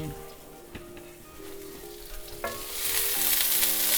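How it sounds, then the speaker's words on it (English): Food sears in a hot pan, a crackling sizzle that swells louder and brighter in the second half over faint tonal background sounds, with no one speaking. "You hear that crisp? That's what I want. I want that pan to be nice and hot."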